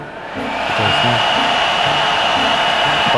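A portable air conditioner for car camping runs in its powerful mode, ramping up to a loud, steady fan whoosh with a tonal hum, close and continuous.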